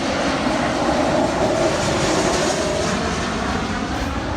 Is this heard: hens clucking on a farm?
no